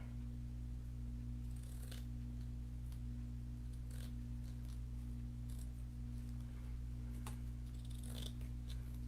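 Soft snips of scissors cutting drinking straw pieces for a craft sunflower, a few faint crisp cuts spaced apart over a steady low electrical hum.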